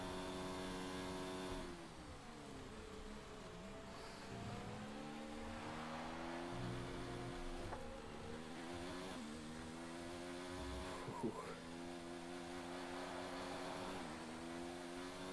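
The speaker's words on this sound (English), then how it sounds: "The engine doesn't sound as healthy as it once did." Formula 1 car engine in the video game F1 2019, Spanish race with a Williams car, droning steadily at high revs for the whole stretch with rising and falling pitch sweeps through gear changes, loud and continuous.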